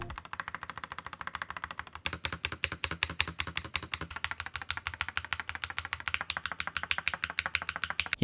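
Stabilized keys on a YUNZII RT75 magnetic-switch mechanical keyboard are pressed one after another in a quick, steady rhythm, each producing a close, crisp clack.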